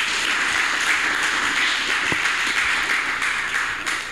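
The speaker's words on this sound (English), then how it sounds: "Shall we give Makesha Susa a round of applause?" Church congregation applauding for a member after she shares a message, a steady dense wash of clapping throughout, fairly loud and close, with no talking over it.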